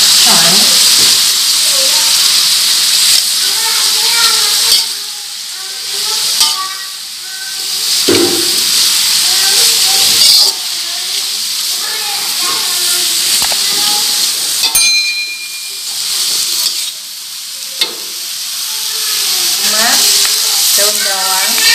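Carrots, leafy greens and bok choy fry in a pan for spiced fried rice-vermicelli noodles, giving a loud, steady hiss and sizzle throughout, with a voice talking over the cooking.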